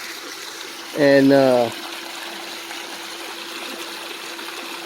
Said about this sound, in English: we got the pool going, clean. We just got to fill it up some more.